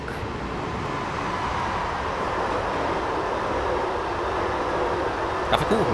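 A train rolling through the foggy Mosel valley in Train Simulator 2016, a steady broadband rumble of wheels and rails holding at an even level throughout, with a brief squeal near the end.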